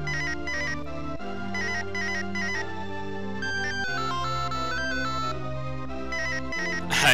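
A bright, ringtone-like melodic jingle from the video game Mother 3 plays continuously for several seconds, loud and clear with layered chiming tones and no talking.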